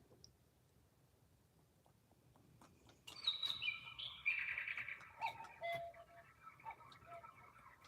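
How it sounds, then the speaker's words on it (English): A bird chirps indoors during a card-making session, with several short, bright calls emerging from 3 to 8 seconds over a quiet room background. "I'm not going to let that bird bother us"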